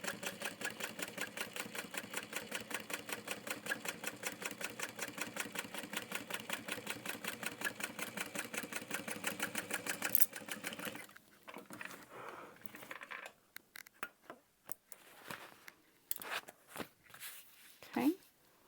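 A sewing machine top stitches a handbag in a steady, rapid run of close needle strokes for about ten seconds, then stops, leaving scattered handling noises afterward.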